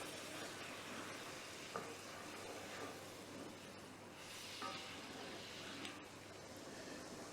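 Drained green peppercorns fry in a pan with a steady, close sizzle and hiss, broken by a few faint clicks of a utensil.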